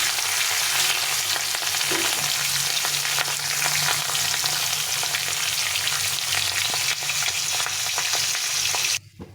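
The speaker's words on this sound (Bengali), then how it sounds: "মাছটা উল্টে পাল্টে লাল লাল লাল করে ভেজে দিতে হবে।" Katla fish pieces frying in hot oil, a steady dense sizzle filling the whole stretch with faint stirring clicks, close and loud, cutting off abruptly at the end.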